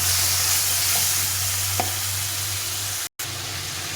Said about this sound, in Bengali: এই মশলাটা এখন দিয়ে দেবো, দিয়ে এটাকে ভালো করে একটু কষিয়ে নেব।